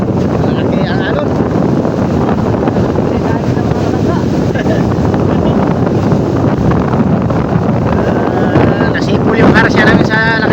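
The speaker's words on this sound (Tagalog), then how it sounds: "Nasipol yung karasya namin sa lakas ng hangin mga katsika." Strong wind roars steadily across a boat at sea in big waves, loud and unbroken, with water rushing and slapping throughout and brief voices surfacing near the end.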